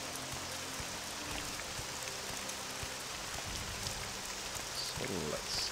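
Steady rain hisses outdoors in the video game Morrowind, a dense, continuous wash of falling water at moderate volume with faint low background sounds beneath it.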